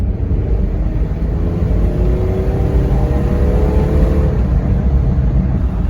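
A third-generation Mitsubishi Montero on a test drive, its engine a steady low rumble under road noise with a faint rising whine, continuous and close for the whole stretch without any talk.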